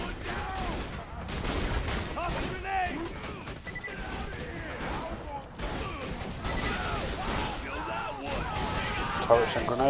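Rapid turret gunfire and grenade blasts from Borderlands 2 combat rattle and burst across the whole stretch, dense and continuous, with a commando player's voice talking over the chaos.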